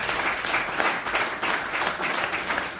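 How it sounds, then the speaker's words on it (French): An audience at a conference in Abidjan claps loudly and steadily for about three seconds, a dense continuous wash of hands with no speech over it. "Applaudissez très très fort."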